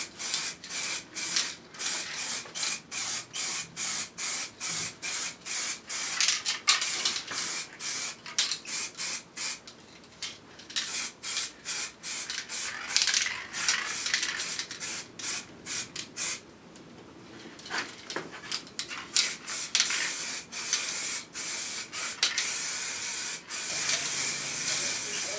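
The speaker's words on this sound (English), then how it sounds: "And this time it's a proper coat." Repeated short bursts of aerosol spray paint laying a heavy coat over Triumph Scrambler motorcycle heat shields in a cool garage, loud hissing pulses in quick rhythm with brief pauses, no talking.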